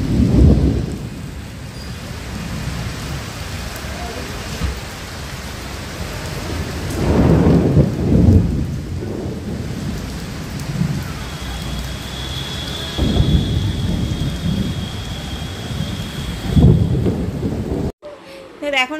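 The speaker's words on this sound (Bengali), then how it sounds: "আজকেই দেখো কপালটা এমন বৃষ্টি শুরু হয়ে গেছে" Heavy rain pours down at an eco park in a steady, loud roar. Several deep thunder rumbles roll through it at intervals, with faint voices underneath.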